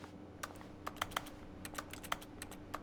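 Clicky keys clatter in irregular bursts of sharp taps during a game of The Stanley Parable: Ultra Deluxe, close and fairly quiet with no one speaking.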